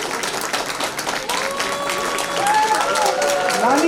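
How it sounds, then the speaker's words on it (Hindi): An audience at a theatre event breaks into applause, a brief burst of clapping and crowd noise with talk and some tonal sounds over it, growing fuller toward the end. "जोरदार तालियां बजाने के लिए"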